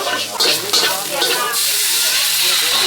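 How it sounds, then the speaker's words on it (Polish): Coconut milk pours into a hot pan, setting off a loud, steady sizzling hiss that continues throughout. "I teraz wlewamy pół litra mleka kokosowego do tego wszystkiego."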